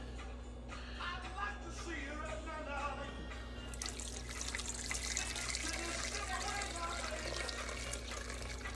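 Potato starch water pours and splashes steadily through a strainer into a bowl, growing louder and fuller partway through, with faint voices murmuring in the background.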